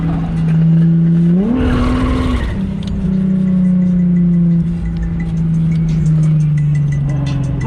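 A car squeals its tires loudly during drift stunts at a stunt event, the engine droning and revving with a rising pitch sweep and sustained tire screech, heard close up from inside the vehicle.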